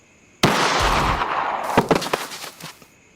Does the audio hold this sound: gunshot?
yes